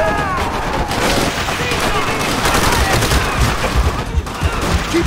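Dense gunfire from the World War II shooter Call of Duty: World at War, sustained bursts and overlapping shots filling the whole stretch, loud and continuous with explosive rumble underneath and shouting mixed in.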